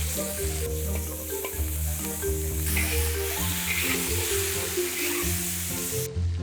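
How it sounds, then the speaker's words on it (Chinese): Fish pieces stir-fried in a wok with minced garlic and shredded ginger, a continuous hot sizzle with scraping stirring strokes, heard under steady background music. "蒜蓉和姜丝爆香，倒入鱼块翻炒"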